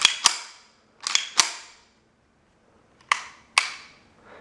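Several sharp metallic clicks from a CZ 75 D Compact pistol with an aluminum frame, heard close up in irregular pairs with short gaps between them and no voices.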